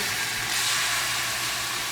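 Steady, loud sizzling hiss of beef steak searing in hot oil, continuing without a break.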